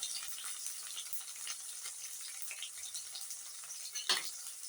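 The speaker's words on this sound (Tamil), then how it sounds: "இதெல்லாம் நல்லா வதக்கிக்கிறேன்." Oil sizzles and crackles steadily as onions, tomato, ginger-garlic paste and green chillies fry in a pan, with a brief louder scrape of stirring near the end; no one speaks.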